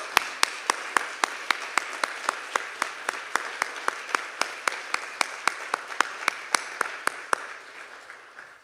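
Audience applause at a Dartmouth climate event: sharp, evenly spaced claps, apparently from a small number of hands, keep a steady rhythm and trail off softly at the end.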